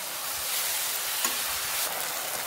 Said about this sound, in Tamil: இன்னும் சேர்த்து கிளறி விட்டுருவோம் இப்போ